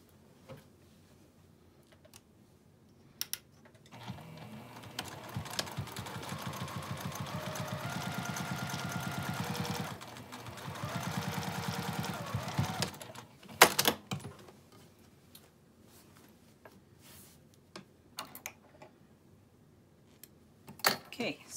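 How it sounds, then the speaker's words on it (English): A sewing machine top stitching across the top of an apron pocket flap, one steady run of several seconds up close, with quiet handling sounds before it and scattered clicks and bumps afterward. "I'll top stitch the top of the flap"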